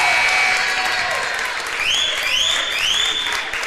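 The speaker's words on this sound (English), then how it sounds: "Cowboy fans getting loud here off to our left" Cowboys fans at a high school basketball game get loud, sustained cheering and applause filling the gym while sharp, rising squeaks cut through the crowd noise.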